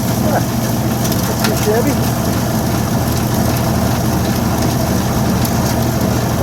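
A homemade ore crushing mill runs loud and close on a burned-out motor, making a steady grinding, rumbling drone that does not let up, while a person talks briefly over it.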